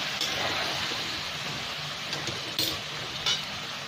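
Tomatoes and whole spices with dried chillies frying for karahi chicken, a steady broadband sizzle throughout with a couple of brief clinks near the end.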